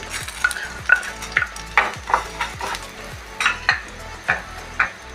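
Mustard seeds, fennel seeds and fenugreek crackle and sizzle in a hot pan while a spoon stirs and scrapes in a quick, irregular rhythm, close and moderately quiet.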